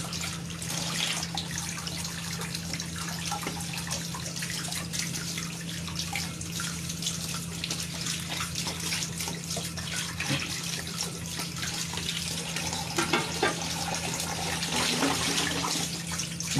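Dishes washed under a running kitchen tap, a steady close rush of water with faint clinks and scrubbing over a low hum, continuous and without talking.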